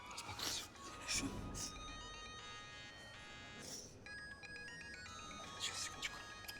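A phone rings with a steady electronic melody, moderately loud, while people speak over and around it.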